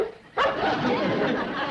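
A dog barks and yips loudly and close by at a small-town dog show, bursting in suddenly after a quiet moment and continuing in a busy, overlapping flurry that holds steady through the rest of the clip.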